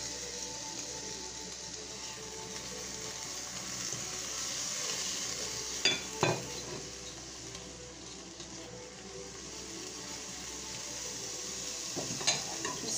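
Sliced onions and celery sizzle gently in a pan, a soft, steady frying hiss with a couple of brief stirring scrapes, low and fairly quiet throughout.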